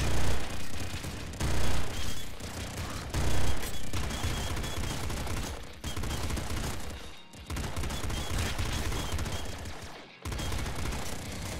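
Gatling bazooka in the Nuclear Throne video game firing a sustained stream of loud, dense blasts and explosions, with brief gaps near the middle and end, no talk over it.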